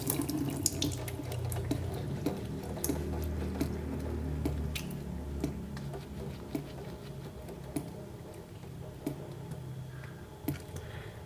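Running tap water splashes steadily into a sink while hands are washed with homemade orange-peel soap, a continuous close patter with small drips and squishy lathering sounds throughout, no talking.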